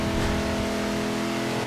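A car engine in the Forza Horizon 2 racing game revs hard at very high speed, a steady loud sustained whine with stable harmonic tones and no talking.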